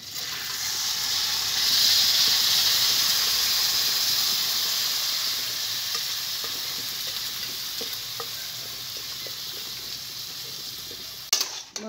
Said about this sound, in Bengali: এখন এই চাল ডাল ধুয়ে রেখেছিলাম ওটা দিয়ে দেবো।